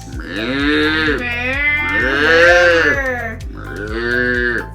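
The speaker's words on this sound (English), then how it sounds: "Cows." Cows moo in a series of long, loud, drawn-out calls, three overlapping bellows close to the microphone over a rhythmic mechanical background.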